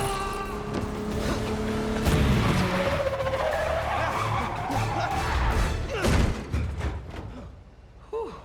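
In the video game Marvel's Spider-Man 2, a car skids hard with a long tire squeal under braking. The squeal is loud and close, followed by a few heavy thuds and knocks as the car slows to a stop.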